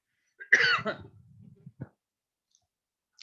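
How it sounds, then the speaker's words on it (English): A single close cough followed by a brief throat-clearing rasp, then quiet. "Excuse me, I'm going to cough."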